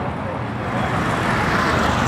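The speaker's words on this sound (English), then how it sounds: "There's a lot of traffic everywhere." Busy city street traffic in Pereira, Colombia, with a steady wash of car and bus engine noise that swells slightly as vehicles pass nearby.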